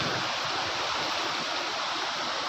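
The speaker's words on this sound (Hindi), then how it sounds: "पानी की स्पीड देखिए, बहुत ज़्यादा तेज है, पानी की स्पीड बहुत तेज है।" Fast, powerful water rushing at Bargi Dam near Jabalpur, Madhya Pradesh, a dense, steady roar that fills the whole clip at close range with no voices over it.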